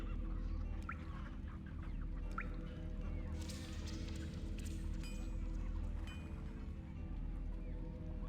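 Ducks quack in a dungeon in the video game Magic: The Gathering Shandalar, with a few short honking calls early on sitting over a steady, dense droning game background, and no one speaking.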